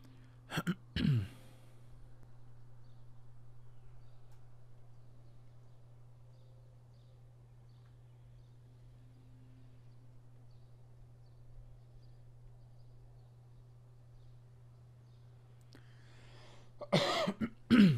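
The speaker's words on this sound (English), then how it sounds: "Just gonna keep on coughing until we start, I guess." A streamer coughs sharply a couple of times, then a long stretch of near-silence with only a low steady hum, before another burst of close, loud coughing at the end.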